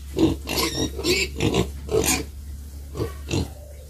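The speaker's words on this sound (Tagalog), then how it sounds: "Yan po guys, yung aking mga alagang baboy." Pet pigs on a farm grunt and snort in a steady run of short, close, fairly loud bursts, several animals overlapping, with no talking.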